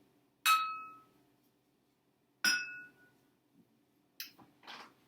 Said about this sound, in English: you tap the empty glass, it makes a higher pitch than when you tap the glasses with water